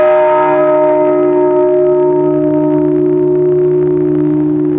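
An old Spanish church bell, struck from outside by a clock hammer, rings out loud and close with one strike, then its sustained tone hums steadily and slowly fades over several seconds.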